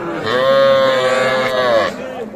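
A single long, drawn-out moo from a young crossbred heifer calf at a cattle market, close and loud, lasting nearly two seconds with a rich harmonic tone before trailing off.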